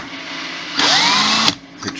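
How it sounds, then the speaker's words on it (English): A power drill spinning a case trimmer whirs up to speed for under a second, then cuts off abruptly, leaving quieter background noise. "hit your drill a little bit and you're trimmed."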